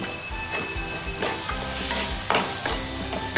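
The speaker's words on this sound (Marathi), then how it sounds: "ते मस्त असं परतून घेऊ आपण।" Spinach-paneer masala sautés in hot oil, a steady close sizzle broken by repeated scraping stir strokes from a spoon against the pan.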